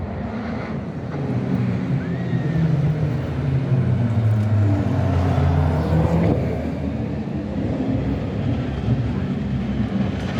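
A McLaren race car passes by in the town-centre parade of the 24 Hours of Le Mans, a steady engine rumble building and fading against wind noise and a murmuring street crowd.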